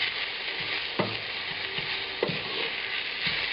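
Onions for Uzbek lamb plov fry with salt in a metal pan, giving a steady dense sizzle with a few soft stirring knocks throughout, close and continuous, with no voices.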